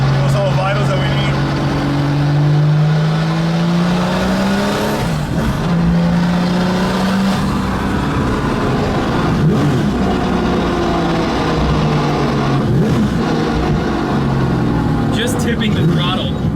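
Porsche 993 Turbo GT2 EVO street car engine revving with repeated throttle blips, rising and falling engine tones rumbling loudly throughout while someone talks excitedly over it.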